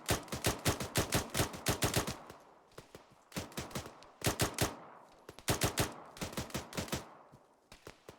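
Automatic gunfire in an Arma 3 battle, rapid bursts of close, loud shots in repeated volleys with short pauses between, rattling sharply against a quiet background.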